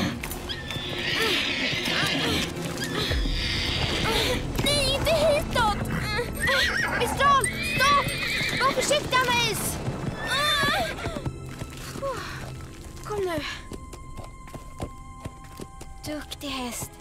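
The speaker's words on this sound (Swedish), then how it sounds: "Duktig häst. Det går fint." A horse whinnies loudly several times while its hooves clip-clop and scuffle on the ground nearby, and people talk and call out over the commotion throughout.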